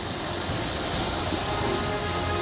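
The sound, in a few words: heavy rain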